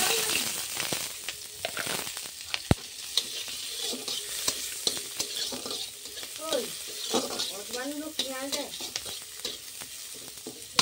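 Potatoes fry with chili in a pan: a constant soft sizzle with repeated scraping stirs and clinks, fairly close and quiet, with some brief tonal sounds partway through.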